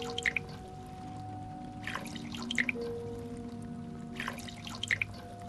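Stabilizer liquid poured during the mixture puzzle in Song of Horror: short splashy drip-and-pour bursts repeating in three clusters over a steady low hum, no voices.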